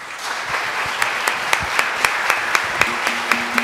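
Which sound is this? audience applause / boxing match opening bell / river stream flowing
audience applause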